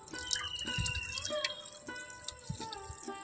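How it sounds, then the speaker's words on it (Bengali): Water pours and drips out of a bowl of grated raw potato in uneven splashes and trickles, close and clear, with no talk. "আর ঠিক এইভাবে জলটাকে আবারও আমি বের করে দেব"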